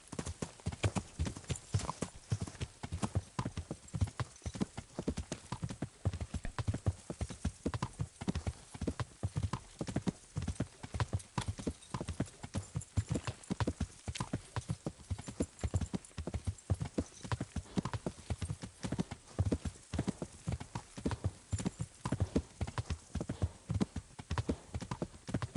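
Steady, rhythmic clip-clop of horse hooves at a brisk pace in the medieval game Kingdom Come: Deliverance, continuous and close throughout, with an occasional faint whinny and no talking.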